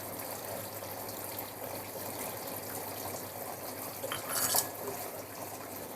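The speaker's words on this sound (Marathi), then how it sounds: "बघा या ठिकाणी कसा धबधबा बनवलेला आहे" A steady, rushing splash of water falling continuously from a small artificial waterfall built as a home Gauri festival decoration, close by and unchanging, with no voices.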